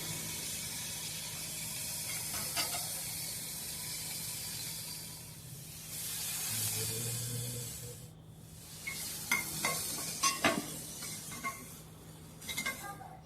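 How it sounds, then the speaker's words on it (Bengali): Cauliflower pieces frying in a pan, turned over for a fish curry: a faint, steady sizzle and hiss with scattered soft clinks of a utensil against the pan toward the end. "এপিট ওপিট করে ভেজে নেবে বেশ ফুলকপিগুলো।"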